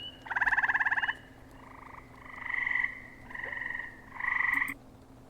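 Frogs croaking nearby: a sharp, rattling pulsed call followed by three softer, smoother croaks at even intervals against a low, constant background hum.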